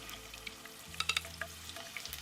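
Chiles and garlic fry quickly in hot oil for a Mexican beef taco sauce, giving a close, steady sizzle with a few sharp crackles and pops. No one speaks over it.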